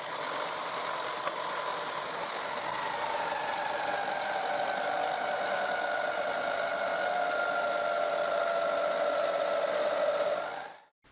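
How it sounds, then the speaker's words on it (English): A homemade disc sander with sandpaper glued to a plywood disc and driven by a drill grinds steadily against wood, a close whirring rasp whose pitch sinks slowly under load before it stops abruptly. "This disc sander sands quite well."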